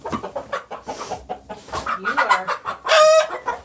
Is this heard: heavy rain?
no